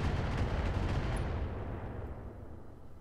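Missile launcher fire from LRMs in the Roguetech mech game, a dense rumbling barrage of launches and blasts that stays loud throughout, then slowly thins and fades toward the end, with no voices over it.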